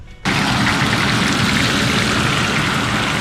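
Rain falls steadily outdoors in Edmonton, Alberta, a dense, loud hiss of drops that starts suddenly and continues unbroken.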